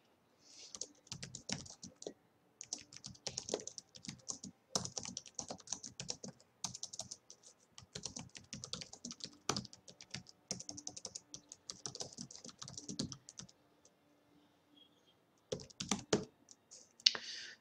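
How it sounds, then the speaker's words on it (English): Bursts of keyboard typing, rapid clicking keystrokes in uneven runs with brief pauses, fairly close and alone. "she can start typing in this document"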